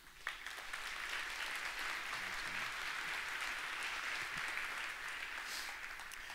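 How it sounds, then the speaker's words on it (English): A conference keynote audience applauds the event's sponsors, a steady wash of many hands clapping throughout, heard at moderate distance with no speech. "So please give the sponsors a round of applause"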